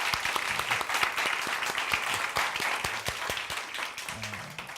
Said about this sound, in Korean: 일어나고 인사할 때 박수로 좀 축하합시다.